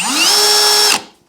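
A Milwaukee M18 Fuel 2804 brushless 1/2-inch hammer drill spins up in drill mode, a loud, rising whine that settles into a steady high motor tone for about a second before cutting off and winding down.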